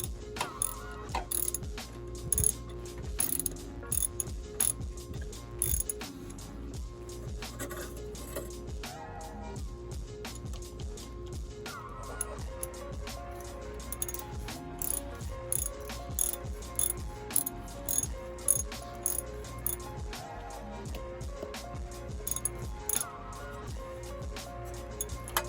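A ratchet working on a coolant hose on a Cummins ISX 15 engine, with repeated close clicking strokes in bursts and pauses over the whole stretch.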